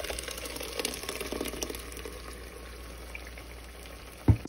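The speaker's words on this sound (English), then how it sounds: "Fry the onions and koobi and momone. Then we add in our blended ingredients." Onions frying with blended ingredients for a spinach stew give a steady, moderate sizzle, a little busier at first. A brief knock or clatter comes near the end.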